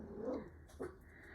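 Puppies growl and give short barks indoors, reacting to something outside; two brief bursts around a quiet room with faint background hiss.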